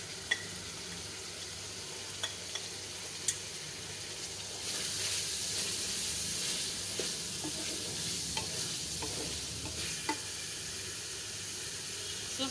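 Red chillies frying in hot oil for a restaurant-style daal tadka, a steady broad sizzle that swells louder partway through, with occasional sharp pops and clicks of stirring, no voices.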